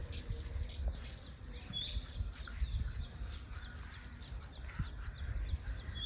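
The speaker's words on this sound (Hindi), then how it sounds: "इस वक्त बर्ड फीडर में बहुत सी चिड़ियाँ आई हुई हैं" Birds chirp and tweet in scattered short calls at a bird feeder over a steady outdoor background hum, no voices, fairly faint and continuous.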